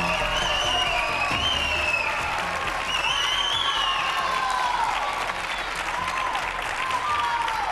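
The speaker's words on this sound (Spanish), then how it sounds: "le recibimos con un fuerte aplauso" Studio audience applause welcoming a reporter onto a Spanish television show, steady dense clapping with some crowd noise throughout, holding at an even level from start to finish.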